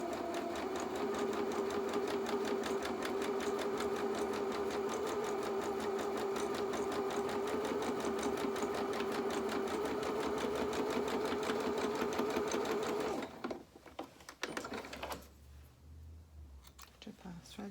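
A sewing machine stitches a very narrow seam on small doll pyjama bottoms, running steadily and close for about thirteen seconds before stopping, followed by brief handling noises.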